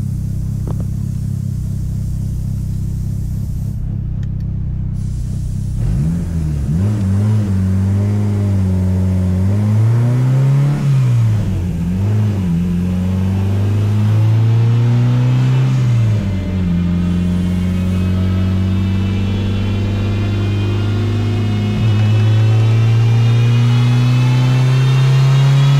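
A turbocharged Honda Civic D16 engine running flex fuel revs hard toward red line, a loud rising drone that climbs, dips briefly, then holds a high strained pitch.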